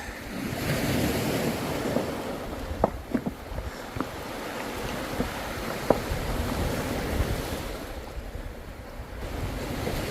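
Ocean waves wash steadily on a rocky shore at Cornwallis, Auckland, New Zealand, with gusty wind rumbling across the microphone, and a few faint knocks sound now and then.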